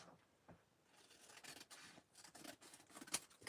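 Scissors cutting paper for craft embellishments, a run of close, quiet crisp snips and slicing strokes in an uneven rhythm, with no talk.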